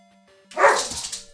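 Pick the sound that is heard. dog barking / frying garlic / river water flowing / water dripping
dog barking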